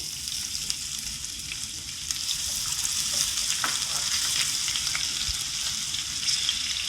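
Split green chillies, crushed ginger and garlic, and curry leaves fry in hot oil for spicy chicken 65, making a continuous soft sizzle and crackle with a few faint stirring taps, with no one speaking.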